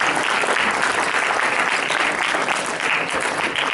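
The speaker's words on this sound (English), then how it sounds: "Let's give one big round of applause again to each of our blocks." An audience claps steadily in a school hall during a student council election debate, a dense, even round of applause that holds at a loud level for the whole stretch with no voices on top.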